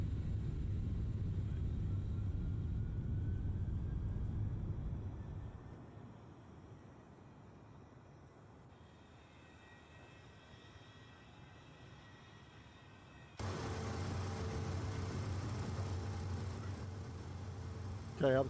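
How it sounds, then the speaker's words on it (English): MD-11 airliner engines in flight in the X-Plane 12 simulator, a steady loud low rumbling drone that dips quieter midway before surging back with a brighter, fuller roar near the end. "As I said, this plane's very loud."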